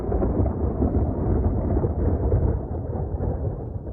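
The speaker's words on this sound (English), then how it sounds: "Okay, there's a lightning strike." Heavy, loud thunder after a lightning strike in a severe thunderstorm. It is a long, deep, continuous rumble that rolls on without a break, with no voices.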